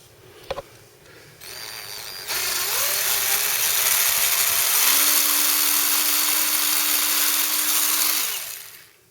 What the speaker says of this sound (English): drop in 2 more holes in this, drill those in